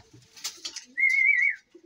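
A pigeon gives a clear, drawn-out whistling coo during feeding after some soft fluttering and rustling, close and fairly loud.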